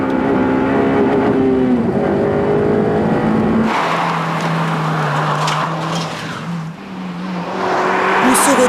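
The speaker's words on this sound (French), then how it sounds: "Ces 201 chevaux prennent alors vie dans une sonorité rageuse qui envahit l'habitacle." A Honda Civic Type-R with 201 horsepower revs hard from inside the cabin, the engine note climbing high, then dropping after a shift and pulling up again, loud and sustained.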